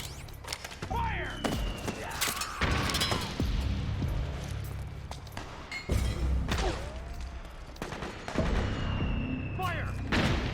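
Gunfire fills a battle in the Metal Gear Solid 4 video game: bursts of rifle fire, heavy booming impacts and crashing blasts, near and far, with soldiers shouting over the fighting.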